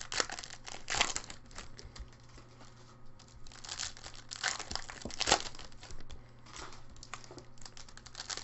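Foil packs of 2015 Finest football trading cards are ripped open, giving repeated crinkling and sharp tearing bursts at close range over several seconds, with a steady low hum in the background and no talking.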